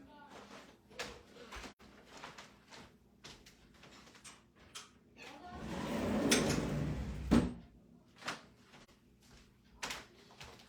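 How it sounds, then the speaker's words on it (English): A wooden pocket door slides shut indoors, a rumbling roll of a few seconds ending in a soft knock, with scattered light handling noises before and after. "Let me go pull this pocket door"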